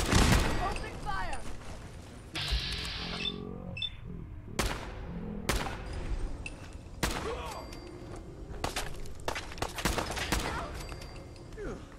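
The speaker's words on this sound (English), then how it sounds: "Opening fire." Rapid bursts of gunfire in Fallout 4 at the Battle of Bunker Hill, sharp shots scattered across the scene with pauses between volleys, mixed with game ambience.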